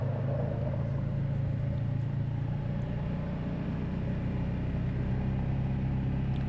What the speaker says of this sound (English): Tammy and I decided to take a little ride and on the quad and go around the loop